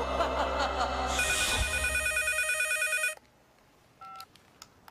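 A telephone rings loudly and close by with an electronic ringtone, then stops abruptly. A short beep and some faint clicks follow in a quiet room.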